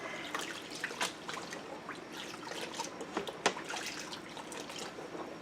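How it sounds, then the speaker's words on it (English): An HE washing machine agitates clothes in water, giving steady sloshing and dripping splashes with a few sharper splashes, moderately close, with no talk. "So I'm going to agitate it."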